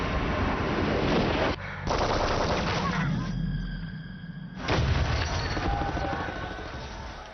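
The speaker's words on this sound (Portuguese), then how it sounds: "Eu vi Frenzel e Frenzel começou a atirar." Gunfire from a shooter in a Nazi camp uprising at Sobibor crackles in rapid bursts, loud and dense, pausing briefly before resuming under a faint rumble.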